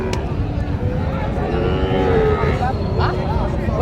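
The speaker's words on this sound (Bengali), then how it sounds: "আমরা এই পাশে একটু খুব সুন্দর দুটি হাই কোয়ালিটির দুটি ষাঁড় বাচ্চা আমরা দেখতে পাচ্ছি।" Young bulls at the traditional Panchbibi livestock market in northern Bengal give a drawn-out moo that rises over the steady hubbub of a crowded market, with voices chattering throughout.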